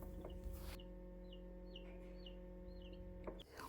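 Laying hens make several short, soft clucks in a quiet row over a steady low mechanical hum, faint and at a moderate distance, with no speech.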